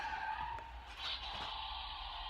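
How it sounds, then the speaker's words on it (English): A child's toy car gives off a faint electronic screeching, skidding whine that wavers and repeats for a couple of seconds, heard alone at low volume. "My son's toy car."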